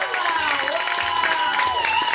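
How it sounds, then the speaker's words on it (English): An audience at a comedy show applauds, with dense clapping and some cheering at a steady loud level throughout, while voices carry on under it. "Big round of applause to Erik Escobar."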